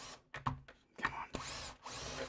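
Power drill driving pocket-hole screws into wood, several short whirring bursts broken by pauses, close and fairly quiet.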